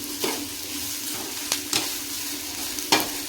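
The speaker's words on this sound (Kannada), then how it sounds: "ಈಗ ಆಯ್ತು ನೋಡ್ರಿ, ಎಲ್ಲ ನೀಟಾಗಿ ಫ್ರೈ ಆಗುತ್ತೆ." Chutney ingredients for ridge gourd chutney, including fresh ginger, sizzle steadily in a pan on a gas stove, close by, while a few soft scraping stirs clink against the pan.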